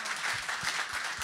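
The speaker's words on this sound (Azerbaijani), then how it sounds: "Bir alqışlayaq." Audience applause at an Azerbaijani poetry battle event, brief faint clapping with a rhythmic beat underneath.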